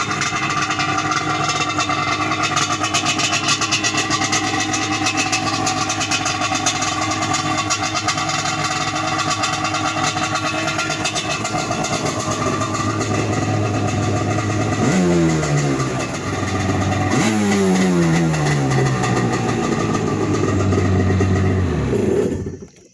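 A 1997 Yamaha Wave Venture 760 jet ski engine runs out of the water, idling loudly and steadily close up, with two quick throttle blips rising and falling near the end before it cuts off.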